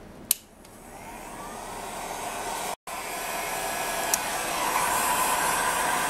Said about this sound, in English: So I'm going to heat up the heat gun.